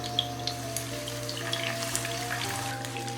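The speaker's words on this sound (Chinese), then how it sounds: "热锅倒入冷油，开始来煎鱼" Egg-coated hairtail fish pieces frying in oil in a hot pan, giving a steady soft crackle and patter with scattered small pops, close and fairly quiet, no talking.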